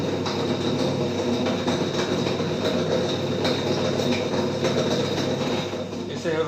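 A Drean Concept 5.05 washing machine with a fault makes a loud, steady mechanical rumble and whir, a continuous close drone with faint rattling and no clear pauses.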